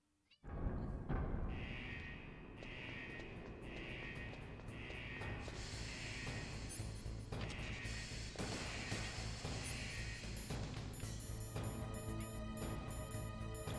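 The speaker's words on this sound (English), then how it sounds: "I hear the cat." A cat meowing in the Metal Gear Solid video game, repeated tonal cries in a steady rhythm over a loud continuous game background, with no one talking.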